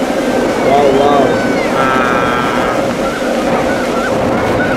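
Large rough sea waves wash in on a beach at Nha Trang, where swimming is banned because of unusually rough sea. The surf roars continuously under strong wind noise while someone talks and other voices are heard.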